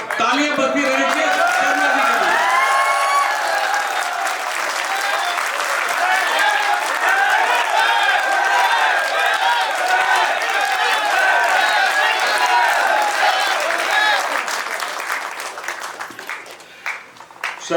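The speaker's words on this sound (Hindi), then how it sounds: "तालियां बजती रहनी चाहिए" Sustained applause fills an anniversary celebration hall, loud continuous clapping mixed with crowd voices, cheering and music, tapering off in the last couple of seconds.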